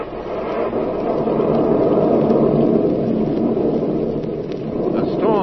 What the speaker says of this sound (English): A storm rages outside the house of Emery Lockmore